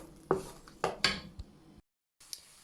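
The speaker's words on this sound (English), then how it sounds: "we're just going to sort of stir the veg around a bit" Vegetables being stirred around a pan for spaghetti bolognaise, with a few clattering scrapes and knocks of a utensil against the pan, fairly close, then a short pause before a faint final scrape.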